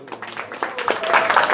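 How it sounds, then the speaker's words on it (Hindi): An audience at a religious gathering for darshan at Siddha Bakul Matha, Puri, claps, building from scattered claps into steadier, louder applause over a hum of voices. "जोर से ताली लगाओ"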